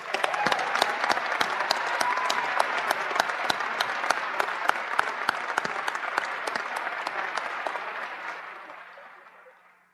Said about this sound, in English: So let's thank and give them a round of applause.